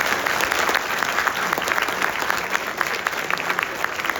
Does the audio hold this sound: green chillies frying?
no